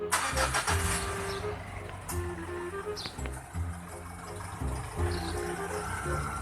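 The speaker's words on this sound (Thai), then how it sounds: "เดี๋ยวไปฟังเสียงเครื่องยนต์กันครับผมว่า จะแน่นขนาดไหนนะฮะ" A 2011 Mitsubishi Pajero GT SUV engine idles steadily nearby, a low rumbling hum with slight rises in revs, no voices.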